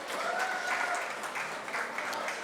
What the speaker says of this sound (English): A big round of applause for the basic class, everyone.